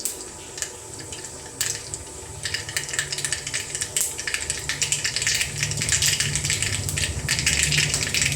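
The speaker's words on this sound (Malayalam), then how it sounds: "കടുക് പൊട്ടി തുടങ്ങുന്നുണ്ട്." Mustard seeds popping in hot oil in a pan, with scattered crackles and sharp pops growing denser and louder over a steady sizzling hiss.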